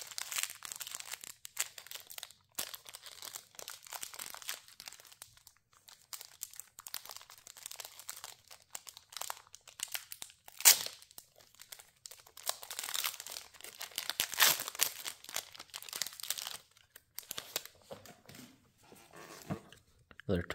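Stuck-together foil Magic: The Gathering booster pack wrappers crinkle, tear and crunch in irregular bursts at close range, with talking heard throughout.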